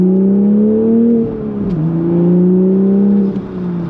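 A Toyota A90 Supra manual's engine drones steadily from inside the cabin, its pitch rising and falling with a couple of gear shifts; muffled exhaust tone, no talking.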